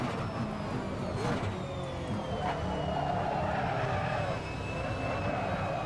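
A Ford Falcon V8 Supercar in the Assetto Corsa racing game brakes hard, with a sustained engine roar and thin tire squeals sliding across it, loud and continuous throughout.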